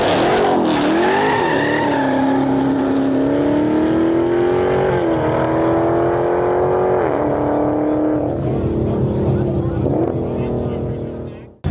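A race car at a street drag race, the engine screaming loud and close as it launches and pulls hard through rising gear tones, then tailing off abruptly at the end, with talk faintly underneath.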